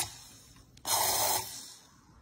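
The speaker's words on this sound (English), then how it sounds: "We're going to spray the WD-40 into the water here." An aerosol can of WD-40 sprays into water in a short, close hiss lasting about half a second, then fades, with a faint click just before.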